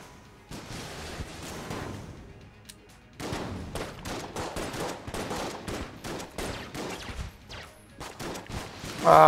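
Charge shot gunfire during a boss fight in Enter the Gungeon, a dense run of sharp, repeated blasts and impacts with irregular bursts that grow busier and louder, ending in a strong hit.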